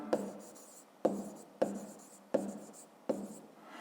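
A pen writes numbers on paper for a fifth-grade maths exercise, giving five evenly spaced taps, each trailing into soft scratching, faint and close.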